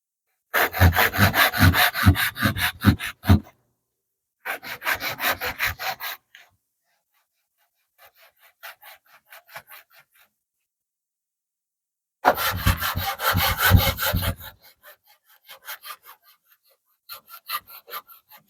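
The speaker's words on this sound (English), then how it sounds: "And then just cut them off when I'm done." Hand saw cutting glued wooden dowels flush in a woodshop, long loud rhythmic rasping strokes in several bursts with pauses, close up, trailing into quieter scraping at the end.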